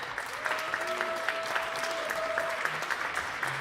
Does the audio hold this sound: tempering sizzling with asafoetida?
no